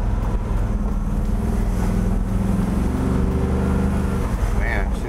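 A 1954 Chevrolet Bel Air engine fitted with custom tri-Y long-tube headers rumbles close by, with the throttle blipped and a continuous throaty exhaust under wind noise.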